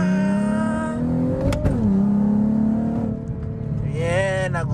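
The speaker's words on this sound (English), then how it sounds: "shift when you hear that it starts going up in RPMs" A Nissan 370Z NISMO with a manual stick-shift gearbox revs loudly up close: the engine note climbs in pitch, dips briefly, holds steady, then rises again in a second rev.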